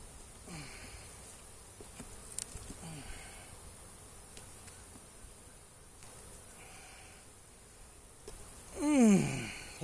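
Honey bees buzz around an opened beehive during a brood check, a faint, continuous drone with individual bees zipping close and passing by, one loud near buzz toward the end.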